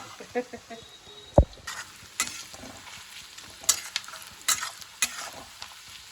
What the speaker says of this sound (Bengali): পেঁয়াজটাকে ভেজে নিচ্ছে। একে বেশি ভাজা যাবে না, একে একটু হালকা লাল হলেই। Shallow fry.